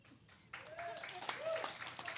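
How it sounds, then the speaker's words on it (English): Wedding guests at a solemnisation ceremony clap after the couple's vows, quiet at first, then clapping rises under overlapping voices and cheers. "We're clapping because that's a very powerful word, isn't it?"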